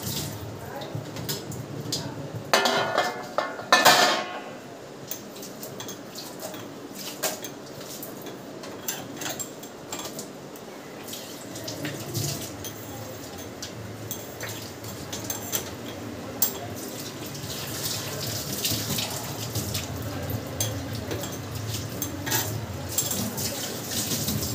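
Kitchen dishwashing under a running tap, with steady water flow, clinks of pots and cutlery and a few louder clatters near the start, close by and moderately loud.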